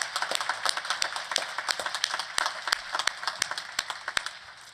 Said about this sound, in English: let's give all of our award winners one more round of applause